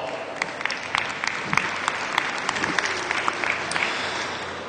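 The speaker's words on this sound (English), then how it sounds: "I think these youth deserve a nice round of applause." A crowd at a heifer show claps for the youth exhibitors, a dense steady round of applause with no talk over it.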